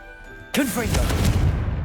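Confringo blast spell in the Hogwarts Legacy video game: a sudden loud burst of fiery energy with swooping tonal whooshes, settling into a sustained roaring rumble and crackle.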